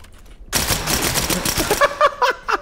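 Sustained rapid gunfire erupts after a quiet opening during a Ready or Not police shooter match, dense bursts giving way to separate sharp shots near the end.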